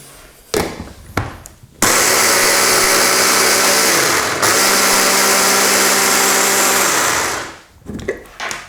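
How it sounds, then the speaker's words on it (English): A blender whirs steadily for about five seconds on a salsa verde of lemon juice and olive oil, loud and close, with a short pitch dip midway, framed by brief clunks before and after. "And we just give that a final blend"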